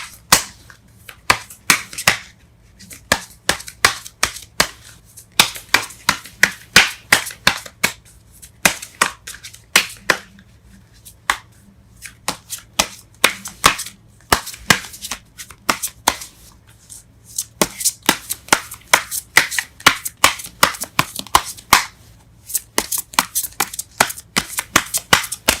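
Tarot cards shuffled and drawn at a reading: sharp, snappy riffles and flicks of the deck keep coming across the whole stretch, bursting in quick clusters with brief pauses, close up and fairly loud, with no talking.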